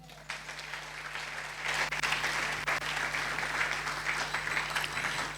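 A church congregation claps and applauds in praise of the Lord, a dense sustained wash of many hands that swells after the first second and stays steady, over a low constant hum.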